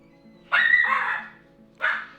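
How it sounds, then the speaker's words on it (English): A small black American Cocker Spaniel barks twice indoors, two sharp, fairly close barks with a short pause between them, over a faint low background hum. "She's a tiny black American Cocker Spaniel"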